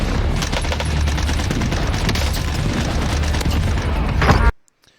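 Sustained automatic gunfire from a recoil-heavy weapon in the Warzone video game, dense rapid bursts with booming low end running loud and continuous before cutting off abruptly near the end.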